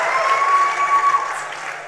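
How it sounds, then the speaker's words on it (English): Audience applause for a volunteer couple at a talk on money and marriage, a steady, fairly loud wash of clapping lasting about two seconds, with a faint sustained tone running beneath it. "Can we clap for them? Keep clapping for them."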